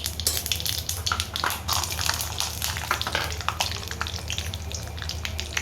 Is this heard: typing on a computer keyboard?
no